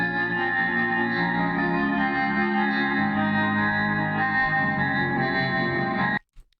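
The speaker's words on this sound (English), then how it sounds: "I did the exact same thing for a different guitar loop" A guitar loop, pitch-shifted and tempo-changed, plays steadily with heavy effects, distortion and echo, dense and sustained before cutting off abruptly near the end.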